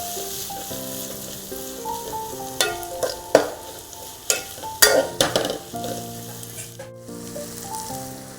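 Onions sautéing in a pan for chicken dum biryani, a continuous close sizzle and crackle with a faint tonal hum in the background, broken midway by a run of sharp spoon scrapes and clatters against the pan, no voices.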